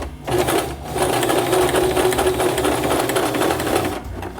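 A sewing machine runs steadily, stitching fabric ear savers for face masks. Its close, rapid, even mechanical whir lasts nearly the whole stretch, with brief pauses at the start and end and no voices.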